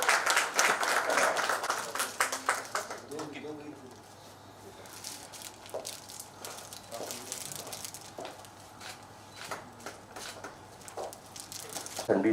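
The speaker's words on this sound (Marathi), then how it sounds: "टाळ्या वाजल्या पाहिजे जोरदार नितीन यादव यांच्यासाठी" An audience at a digital media workshop bursts into loud applause for Nitin Yadav, starting strong, then thinning into scattered claps and fading as a voice speaks.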